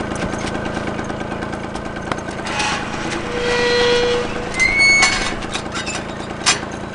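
A scooter engine runs steadily nearby with a buzzing, mid-pitched drone, rising slightly in intensity a couple of times while faint higher tones come and go.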